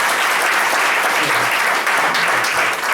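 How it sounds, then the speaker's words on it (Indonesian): Loud, dense applause from an audience at a morning gathering, steady clapping throughout with no pause. "tepuk tangan yang meriah Bapak Ibu sekalian"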